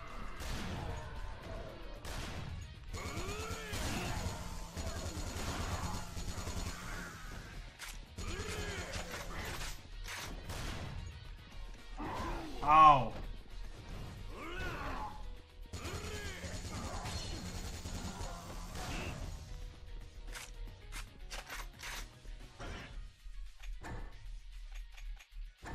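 Sniper rifle gunfire and combat in the video game Yakuza Dead Souls, with sharp sparse shots and mechanical clanks among game effects and scattered voices, one louder crash midway.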